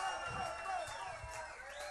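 A concert audience at a CD presentation cheers and whoops with scattered applause for a performer, a loud and continuous crowd roar for under two seconds, with some talking mixed in.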